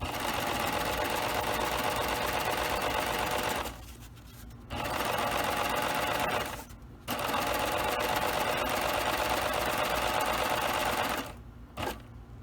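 A serger overlocks the raw edge of an ironing board cover, stitching around an enclosed cord along the curves. The machine runs loud and steady in three long bursts, each stopping briefly between them.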